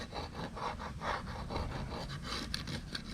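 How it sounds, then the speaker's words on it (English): Scraper working over the painted valve cover of a 1991 Honda Civic, a steady run of close, rasping back-and-forth strokes at an even rhythm, with no talking. "Then I'm going to get a scraper, see if I can start scraping this off."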